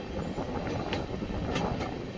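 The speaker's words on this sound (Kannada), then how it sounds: "ನಮ್ಮ ಟ್ರೈನ್ ಈಗ ಎಂಟ್ರಿ ಆಗ್ತಿದೆ ತಿಪಟೂರು ರೈಲ್ವೆ ಸ್ಟೇಷನ್ಗೆ, ಪ್ಲ್ಯಾಟ್ಫಾರ್ಮ್ ನಂಬರ್ 3ಕ್ಕೆ." A train rolling into Tiptur railway station toward platform 3, a steady, fairly loud rumble of wheels and carriages with faint rail clatter, no voices.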